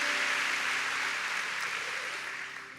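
A church congregation applauds in a soft, distant, hissing wash of clapping that holds steady and then slowly fades away.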